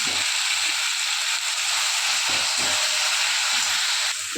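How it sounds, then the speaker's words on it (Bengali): Ginger-garlic paste frying in hot oil in a pan, a steady loud sizzle and hiss with soft scraping stir strokes underneath, no talking. "আদা রসুন বাটা দিয়ে নাড়ছি"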